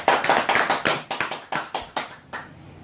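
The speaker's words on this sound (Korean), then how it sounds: "영광의 박수 올려드립니다." A church congregation claps in a quick, distinct rhythm, about a dozen crisp sharp claps in a row that fade out over a few seconds.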